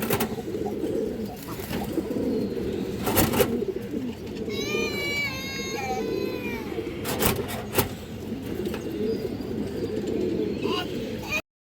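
Young silver pigeon squabs make soft coos and squeaky calls close by, with a louder rising chirping run in the middle, mixed with other bird sounds and background voices.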